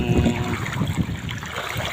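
Deep floodwater sloshes and swirls as a bicycle is pushed through it on the way home in the evening, a close, steady churning and gurgling with low rumbling underneath.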